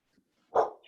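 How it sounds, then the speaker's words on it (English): A single sharp bark from a dog inside a house, short and fairly close, standing alone against a quiet background. "sorry for the barking dog here."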